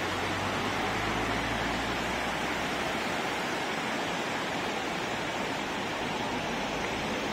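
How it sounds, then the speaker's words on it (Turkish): Fırtına Creek in Rize rushes past in a constant, full broadband roar of flowing water, close and unbroken for the whole stretch with no voices over it. "Bu Fırtına Deresi. Fırtına gibi akıyor."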